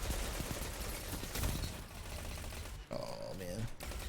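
Video game gunfire crackles continuously in rapid bursts under a busy mix, with a brief lull near the end before the shooting resumes.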